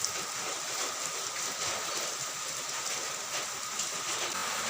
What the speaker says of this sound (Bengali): আর এদিকে বলতে না বলতেই বৃষ্টি চলে এলো।